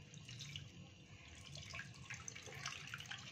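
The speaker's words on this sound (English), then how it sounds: "So I'll add water" Tap water pours steadily into a cooking pot (sufuria) in a home kitchen while mandazi are being prepared, making a continuous close splashing rush with no talk.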